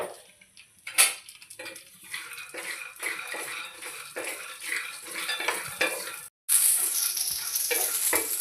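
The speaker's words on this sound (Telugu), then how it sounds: "పచ్చిమిరపకాయలు మిరపకాయలన్నీ బాగా కలిపి వేపేసుకోండి." Green and dried red chillies frying in a pan for peanut chutney, with close sizzling broken by repeated stirring scrapes and clinks of a utensil against the pan, a brief gap, then steady loud sizzle.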